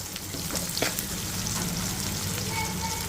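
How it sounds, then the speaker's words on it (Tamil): Onions sauté in a hot pan with oil for tomato rice, a steady, close sizzling and crackling that runs unbroken throughout with a few small stirring knocks, and no voices. "வெங்காயம் நல்லா வதங்கட்டும்"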